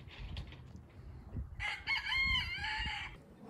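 A rooster crows loudly once in the second half, preceded by soft clucking and rustling nearby.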